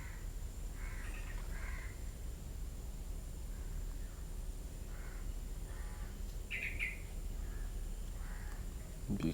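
At a wetland reserve in Sungei Buloh, Singapore, a crow-like bird gives several harsh, distant caws. The calls come in short bursts over a steady hiss of outdoor ambience.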